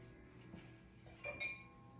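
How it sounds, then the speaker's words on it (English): A stand mixer's attachment is swapped out for the mixing paddle while making chocolate chip cookie dough, giving a couple of quick metallic clinks midway over a faint steady background hum. "I'm gonna switch out the attachment"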